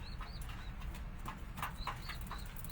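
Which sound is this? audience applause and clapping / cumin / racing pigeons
racing pigeons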